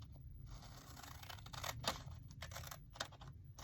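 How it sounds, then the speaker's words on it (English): Scissors snip through paper while cutting out a decorative junk journal envelope, a quiet string of close crisp cuts with a couple of sharper clicks, no speech. "and I'll cut this one right to the line"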